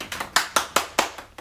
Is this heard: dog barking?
no